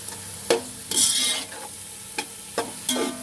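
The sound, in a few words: chopped tomatoes frying in a pot for matar pulao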